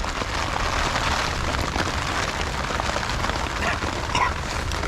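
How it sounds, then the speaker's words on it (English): Rain falls steadily during tarp camping in the bush in a storm, a dense, even hiss of drops that holds constant and close throughout. "you got beautiful rain"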